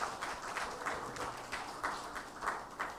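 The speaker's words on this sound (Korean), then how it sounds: "은혜로운 찬양해 주신 성가대원들에게 감사의 박수 하겠습니다" A congregation at a Sunday worship service in a Korean university church gives the choir a round of thanks, fairly soft clapping that swells and eases in loose, repeating surges.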